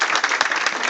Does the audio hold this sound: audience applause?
yes